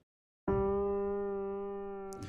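Reason Radical Piano with drift pitch modulation turned fully up, a single sustained note struck after a brief silence, ringing with slowly wavering pitch and decaying gently.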